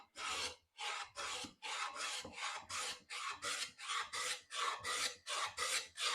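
Hand plane with a smoothing blade scrubbing across wood, about a dozen rhythmic rasping strokes in steady succession, close and alone.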